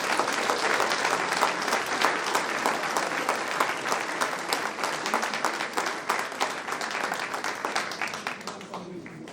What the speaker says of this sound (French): Et rien que ça vaut des applaudissements.